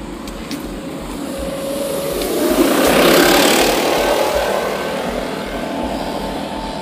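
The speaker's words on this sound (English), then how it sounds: "Leaf blower, man." A leaf blower running steadily nearby, its broadband whooshing roar swelling louder in the middle and easing off again, with no talking over it.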